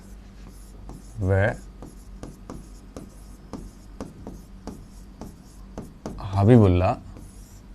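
Chalk taps and scrapes across a board in quick strokes, with two longer, louder scratching passes, while someone talks throughout.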